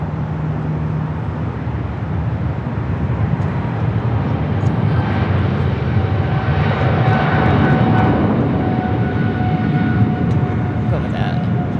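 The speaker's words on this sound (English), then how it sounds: "Another takeoff." An airliner taking off at LAX in the early morning, giving a loud, steady jet engine roar that swells and holds throughout from a moderate distance, with faint voices mixed in.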